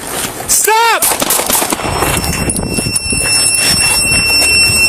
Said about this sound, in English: shots fired by law enforcement